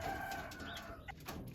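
Racing pigeon hens in a loft give soft, faint cooing and fluttering murmurs, low and close amid quiet background noise.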